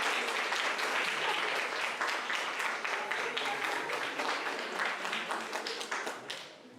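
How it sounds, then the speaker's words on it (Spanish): A conference audience applauds with steady, many-handed clapping that stays fairly even, then tapers off and fades at the end. "Aplauso para la doctora Brenda Yesenia Olalde Vázquez"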